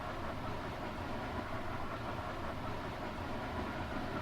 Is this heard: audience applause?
no